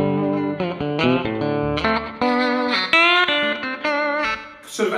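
An electric guitar played through a delay pedal plays a melodic phrase of single notes and short chords, each note followed by a quick slapback echo, loud and close.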